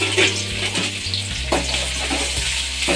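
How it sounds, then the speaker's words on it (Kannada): Small-cut onions go into hot oil in a pan with bay leaf, cinnamon and cloves, frying toward brown for chicken gravy; a steady close sizzle with stirring scrapes runs throughout, with no talking. "ಈರುಳ್ಳಿ ಸ್ವಲ್ಪ ಬ್ರೌನ್ ಕಲರ್ ಬರೋ ಥರ ಫ್ರೈ ಮಾಡ್ಕೋಬೇಕು"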